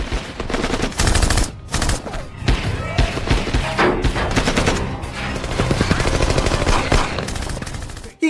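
A gunfight shootout from the action film Tactical Force: loud, rapid volleys of gunfire and thudding impacts crowd together almost without a break, with a short lull between bursts.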